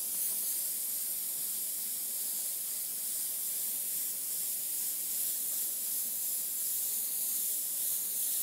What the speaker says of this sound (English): So that's what we're putting our yellow down first.